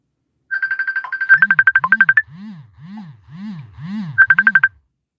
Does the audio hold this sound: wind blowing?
no